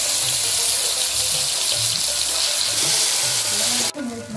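Pointed gourd (potol) filling of scooped-out gourd flesh frying in hot mustard oil, a steady, loud, close sizzling hiss that drops away abruptly near the end.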